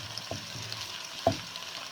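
Soft, steady sizzling of onions frying to light brown in a pan, with a couple of faint clinks and stirring sounds, no voices.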